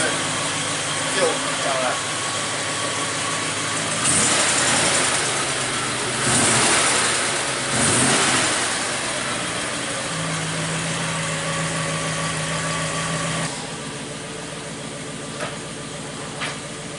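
A steady Triumph Stag engine drones at close range for the whole stretch on its first run, with a few louder surges partway through and a lower, quieter hum near the end.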